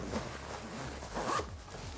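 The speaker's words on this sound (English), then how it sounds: "Zip it up." A zipper on an orthopedic dog bed cover is pulled closed in a couple of quick, soft rasping strokes, close and faint.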